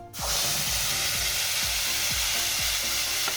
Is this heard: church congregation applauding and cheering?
no